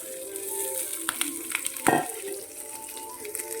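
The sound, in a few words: onions sautéing in a pan for chicken perattu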